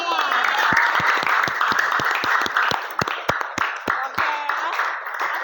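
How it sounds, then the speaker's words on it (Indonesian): A small indoor group claps together for several seconds as a class session wraps up. The applause is dense and steady with a few louder individual claps standing out, and a voice speaks over it. "Beri aplaus untuk kita semua."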